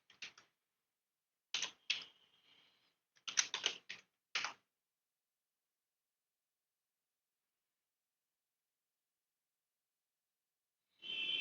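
Keys on a computer keyboard are tapped in a few short quick clusters, quiet and close, separated by long silences, with a last burst of typing at the end.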